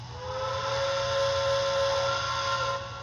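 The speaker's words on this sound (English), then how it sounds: "which the whistle by default sounds like this." An MTH Protosound 3.0 K4 model train steam whistle blows one sustained, breathy note with hiss around it, holding steady for a few seconds and then cutting off.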